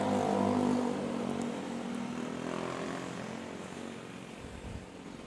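An ANA airliner on its landing roll on runway 01 at Manila Airport, a loud engine roar heard from a distance that slowly fades and softens as the aircraft decelerates away.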